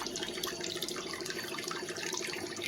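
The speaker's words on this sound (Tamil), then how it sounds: "வடிகட்டி நம்ம தேவையான அளவுக்கு தண்ணியும் சேர்த்து நம்ம வடிகட்டிக்கலாம்" Water is poured through a strainer to extract tamarind pulp for a spicy Tamil sundakkai kara kuzhambu, a steady near splashing trickle with no talk.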